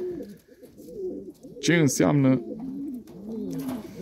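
Breeding pigeons, including hens, coo in low repeated rolls nearby, continuing under a voice speaking over them.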